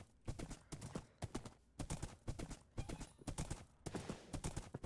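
Horse hooves clip-clop steadily in Minecraft, a rhythmic run of hard, close knocks falling in quick repeated groups across the whole stretch, with no talk over them.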